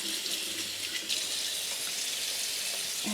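Hot water runs steadily from a kitchen tap into a sink during jar cleaning for pressure canning, a continuous close hiss and splash with no talk.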